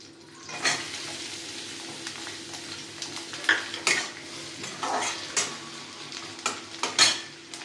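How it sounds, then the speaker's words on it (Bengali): Chopped garlic and onion sizzle in fish oil in a pan while a utensil stirs and scrapes, with irregular metallic clinks and bursts of hissing over a steady low frying crackle. "দিয়ে দিচ্ছি খানিকটা পেঁয়াজ কুচি"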